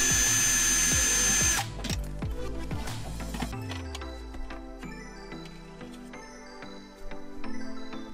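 A power drill fitted with a spade bit whirs at close range while working on a fan during a teardrop trailer solar setup, starting with a loud high whine and then giving way to clicking and rattling mechanical sounds.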